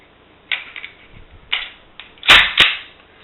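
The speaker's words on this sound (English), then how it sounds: "the only thing left to do is put the slide on and the mag back in" Sharp metallic clicks and clacks from a Glock 29 pistol as the slide is fitted back on and the magazine is pushed into the grip, a few separate snaps ending in two louder, close-up clicks.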